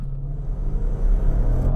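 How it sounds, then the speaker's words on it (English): Range Rover Velar SVA with a 550-horsepower supercharged V8 held on the brake and released, its steady engine rumble building under hard launch acceleration, close and loud throughout. "All I'm going to do is hold it on the brake, rev it up a bit and release the brake."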